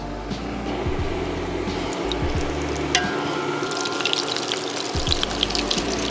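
Chicken drumsticks frying in hot oil for Southern fried chicken, a loud steady bubbling sizzle with crackles and faint clinks, close up and continuous.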